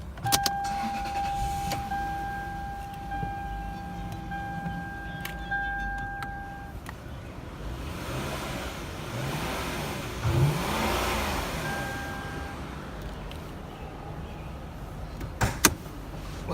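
A 2006 Lexus LS430 runs steadily nearby, its engine hum rising briefly with a rev in the middle, joined by a power window whine and a couple of sharp knocks near the end; no talking.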